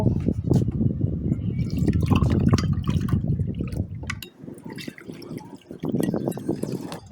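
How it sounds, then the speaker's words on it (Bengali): Cold water poured into a glass of Rooh Afza sherbet with sugar and lemon, a close, steady splashing gush that slackens briefly near the end before resuming. "এখন আমি ঠান্ডা জল দেব।"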